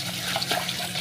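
Tap water runs steadily into a pot of rice being rinsed in a kitchen sink, a close, continuous splashing pour with no talk over it.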